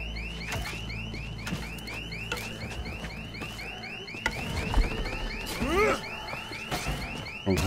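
A car alarm goes off in the video game Dead Island 2, its rising, repeating electronic whoops cycling steadily and loudly over a busy background of other game noise.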